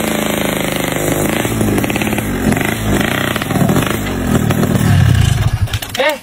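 A motorcycle engine revs loudly and roughly up close, the rattling note rising and falling before surging at the end.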